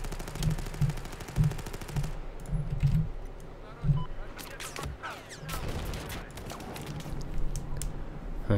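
Battlefield 4 gunfire in bursts of rapid automatic shots and scattered single cracks, fairly close and loud, continuing through the clip with a busy battlefield din behind.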